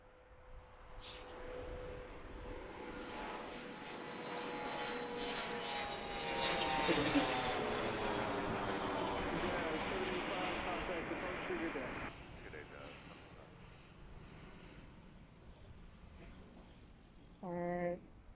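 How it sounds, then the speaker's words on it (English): An airliner departs from Washington Reagan National Airport, its engine roar building to a loud, sustained rumble as it passes, then fading away into the distance. "And here comes our departure."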